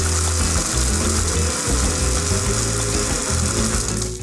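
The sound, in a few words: blender blending zombie cocktail with crushed ice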